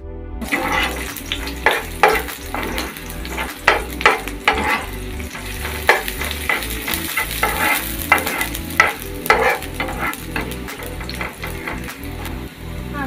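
Ghee sizzles in a pan while chicken roast is stirred and scraped, giving loud, close, continuous frying hiss broken by repeated rhythmic scraping strokes, with no talk.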